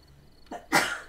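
A single short sneeze, a quick intake followed by a sharp burst, heard close and fairly quiet.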